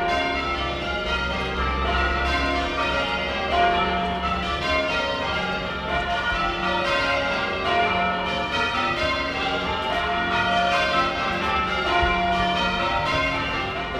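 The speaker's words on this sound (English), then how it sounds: "filled Geelong West with the sounds of St Paul's Geelong's historic church bells in a three-hour peal" Light church bells at St Paul's in Geelong West rung in a long change-ringing peal, a steady dense cascade of overlapping strikes with constant loudness and no voices.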